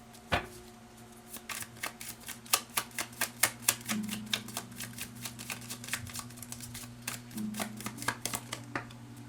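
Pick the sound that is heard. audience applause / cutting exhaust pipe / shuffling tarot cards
shuffling tarot cards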